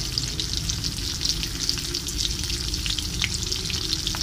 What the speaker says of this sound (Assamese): পিঁয়াজটো ভাজি আছোঁ